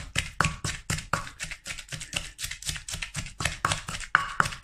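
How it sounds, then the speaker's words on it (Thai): Steady rhythmic thumping of a pestle pounding shrimp paste with sugar and chilies in a mortar while making Thai nam prik kapi, each blow a sharp knock repeating about three times a second, close and clear. "โขกกะปิ ให้เข้ากันกับน้ำตาล แล้วก็พริกเนาะ"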